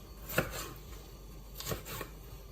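A knife slices food into strips on a cutting board during healthy pasta prep, two or three soft thuds of the blade against a quiet background, close but faint.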